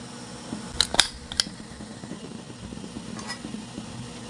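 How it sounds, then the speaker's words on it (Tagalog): A kitchen knife slicing tomatoes makes a quick cluster of crisp clicks against a cutting board, then settles into a quiet background hum with no voices. "I-slice na natin ang kamatis na pampaganda ng kutis."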